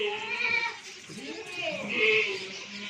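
A goat for sale, one with kids, bleats twice in wavering cries close by, one early and a louder one near the end, over a steady background murmur.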